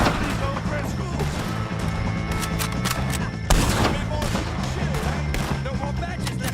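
Rapid gunfire from Red Dead Redemption 2 as O'Driscoll gang members are shot, a dense, loud volley of overlapping shots with one heavier bang midway, layered with game sound and voices.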